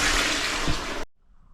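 Water rushing out of a home plumbing system as it is drained during a water hammer repair: a loud, steady whoosh that cuts off abruptly after about a second, leaving near silence.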